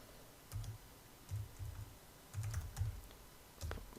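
Typing on a computer keyboard, heard as short bursts of soft key clicks in clusters with brief pauses between them, close and fairly quiet.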